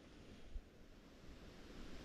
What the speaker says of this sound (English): Look at the wind coming, the waves in the water.